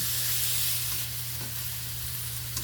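Pechay and tofu sizzle steadily in a hot pan as they are stirred, a constant frying hiss with a low hum beneath and occasional faint scrapes, no voices.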